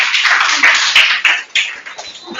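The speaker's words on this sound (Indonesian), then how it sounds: "kita beri tepuk tangan untuk kelompok 1" Classroom applause for a student group, a scattered run of quick claps from several hands, fairly loud and close, thinning out toward the end.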